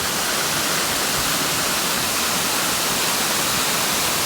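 Waterfall beside a fast-flowing river swollen by heavy rain, a loud, dense and continuous rushing roar with no pauses and no voices.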